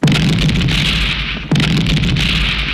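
A petrol pump blown up in a film scene: a loud, sustained roaring blast with rumbling low end, a brief dip and then a second burst of roaring fire and debris, filling the whole stretch without speech.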